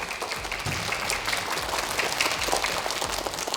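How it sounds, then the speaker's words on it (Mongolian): Applause for a traffic police officer introduced to a group of children, steady clapping from a small crowd that runs through the whole stretch with a light, dense patter. "Алга ташлтыг бэлгэлээ"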